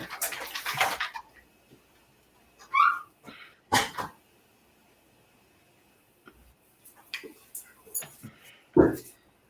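A dog gets a treat, letting out several short, high whimpers and sniffs spaced across quiet stretches, close and fairly clear. Brief bursts of noise come between them.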